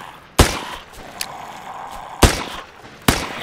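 Three sharp gunshots from the survival horror game Parasitic Descent ring out alone, the first near the start and two more close together toward the end, each with a brief ringing tail.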